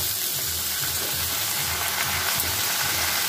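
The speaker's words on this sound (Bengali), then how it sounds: "এর মধ্যে আমি কেটে রাখা মূলোগুলোকে দিয়ে দেব, ভাজা ভাজা করে নেব।" Radish and potato fry together in a pan with a constant, even sizzle and hiss, steady and fairly close, with no talking.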